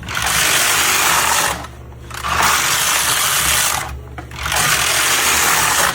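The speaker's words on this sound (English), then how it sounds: "It's stitching on the front bed and flipping over and stitching on the back bed." Hamanaka Needle Knitter knitting machine carriage stitching across the front and back beds, a loud mechanical whirring clatter in three sustained passes separated by short quieter pauses as the carriage changes direction.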